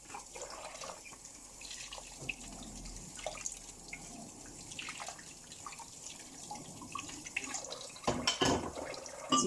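Tap water running and splashing at a kitchen sink while dishes are washed up by hand in pink rubber gloves, a steady wash with drips and small clatters, louder splashes near the end.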